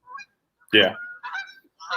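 Resident geese honk while flying overhead, a few distant calls spread across the moment, with a brief spoken word from a nearby person mixed in.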